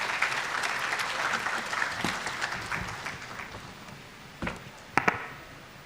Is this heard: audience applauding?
yes